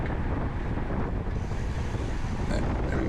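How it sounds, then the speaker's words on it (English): Strong headwind buffets the microphone during an Eldo criterium Cat 4/5 bicycle race, a loud, continuous low rumble of wind noise with no break and no voices. "the wind is blowing in our faces"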